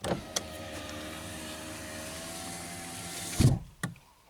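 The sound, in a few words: car power window closing automatically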